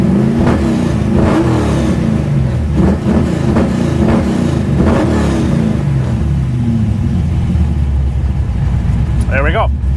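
A 416ci LS stroker engine runs during tuning on a dyno, a loud, heavy low rumble with repeated rev surges that rise and fall in a steady cycle, close and continuous.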